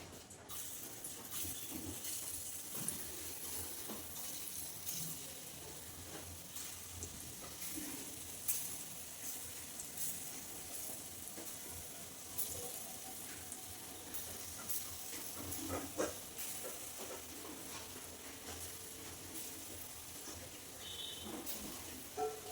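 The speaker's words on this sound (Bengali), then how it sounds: "আমি ছোট্ট ছোট্ট করে বড়া ভেজে নেবো" Oil sizzles with a faint, steady hiss as small fritters fry, with occasional soft crackles and stirring sounds.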